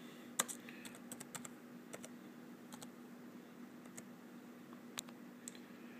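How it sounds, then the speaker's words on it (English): Computer keyboard keys are pressed in a quiet room, scattered light clicks in small bursts and single taps, close and fairly soft over a faint steady hum. "I'm just going to hit Control V as in van and paste my serial number in here."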